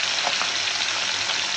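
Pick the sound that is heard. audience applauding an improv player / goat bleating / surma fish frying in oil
surma fish frying in oil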